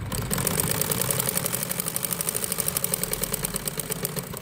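A sewing machine stitching the side seam of an umbrella frock, its needle running in a fast, even mechanical rhythm with a steady motor hum, close and alone.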